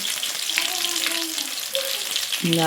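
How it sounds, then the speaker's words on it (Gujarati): Samosas sizzle steadily in hot oil, a constant close crackling hiss with a few faint tonal sounds drifting underneath. "આપણે સમોસા તળાવવા નાખીએ"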